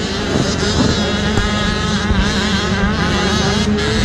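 A Passion Racing Husqvarna motocross bike crosses the finish line at a youth championship race, its engine droning loudly and steadily with rising and falling revs, mixed with other bikes and wind noise.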